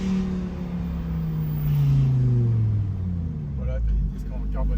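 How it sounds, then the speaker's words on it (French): Lamborghini Huracan Performante Spyder with carbon-ceramic brakes slowing and downshifting, its engine note falling steadily as it drops gears, with a small pop on the downshift, heard close and loud under continuous talk. "une petite déflagration au rétrogradage là, mais en termes de sonorité, je pense qu'on peut difficilement faire mieux"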